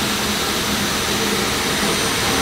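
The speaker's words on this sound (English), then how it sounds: "Go ahead and turn on your pump." A spray tank pump runs with a steady, loud mechanical whir and rushing hum, unbroken throughout with no talking.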